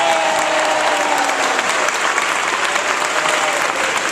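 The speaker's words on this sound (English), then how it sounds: "Give Brother Michael Baisden a round of applause." A seated audience gives a sustained round of applause at a mentoring panel event, dense steady clapping that fills the whole stretch with a few cheers mixed in.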